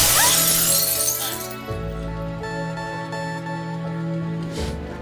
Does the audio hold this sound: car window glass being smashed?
yes